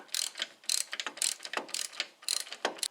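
Ratchet wrench tightening a new lock nut on the lower ball joint of a VW Passat 35i, rapid close clicking in repeated bursts of strokes.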